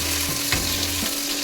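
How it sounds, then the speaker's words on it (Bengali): Onion frying in hot oil, a steady close sizzle with a couple of brief stirring scrapes, moderately quiet and free of voices. "পেঁয়াজ ফোড়ন দিলাম, একটু ভাজা ভাজা হয়ে এলে"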